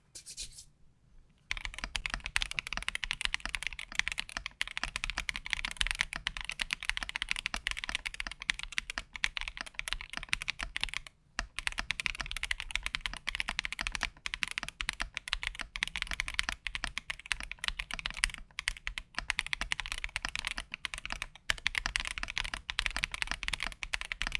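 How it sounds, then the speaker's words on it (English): Rapid, steady clacking of keys on a foamless modded CIDOO V75 aluminum mechanical keyboard, sharp and close, continuing for the whole stretch with only a few brief pauses. "here's the foamless modded sound test."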